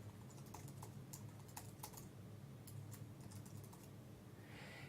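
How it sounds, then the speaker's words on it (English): Quiet, close computer keyboard typing with irregular clusters of key clicks over a low background hum while a search is entered, with no voices. "I am going to type in Kansas City visitor information."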